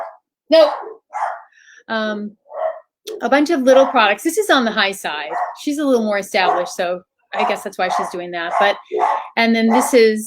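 Small pet dogs bark and yip intermittently indoors in short bursts, mixed in with someone talking continuously nearby.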